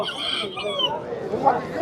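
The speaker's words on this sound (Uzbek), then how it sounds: "Xorozlar." At the Namangan bird market, chickens and roosters cluck and squawk in short bursts among market chatter and voices, with a couple of sharper calls near the end.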